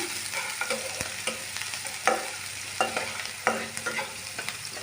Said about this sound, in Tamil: இந்த ஆனியனை நம்ம நல்லா ஃப்ரை பண்ணிக்கலாம்